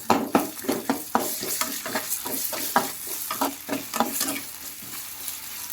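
Curry masala for chicken curry fries in a pan, a soft sizzle broken by rhythmic scraping strokes of a spoon stirring through the mixture, fairly close and without talk.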